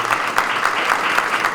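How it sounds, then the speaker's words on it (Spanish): Dense applause from a crowd at an event in El Salvador, steady and sustained throughout, fairly loud with no clear voices above it. "eso merece un aplauso"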